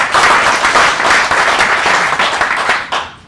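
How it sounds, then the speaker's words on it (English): Dense audience applause fills the room, loud and steady with many hands clapping together, then thins toward the end of the burst. "Give a big round of applause and thank you to Mr."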